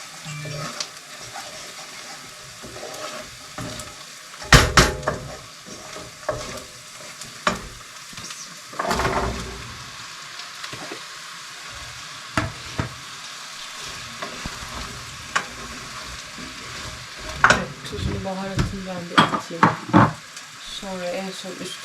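Chicken wings and potatoes sauté together in a pan, a steady sizzle broken by repeated scraping stirs and occasional clanks of a utensil against the pan, with brief faint voice in the background.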